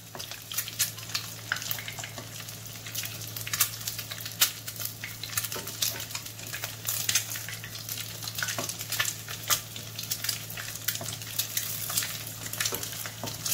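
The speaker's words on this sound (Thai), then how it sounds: "ทอดให้ไข่มันออกสีน้ำตาล" Shrimp and egg frying in hot oil until crispy and brown for a spicy basil stir-fry, a continuous close crackling sizzle with dense spitting pops and a low steady hum underneath.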